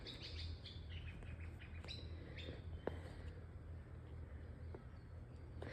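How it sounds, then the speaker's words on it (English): Birds chirp and squawk outdoors in quick, scattered calls over a low background hum, faint and some distance away. "The birds will be a little quiet today because I'm late."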